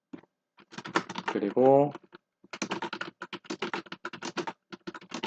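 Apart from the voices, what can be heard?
typing on a computer keyboard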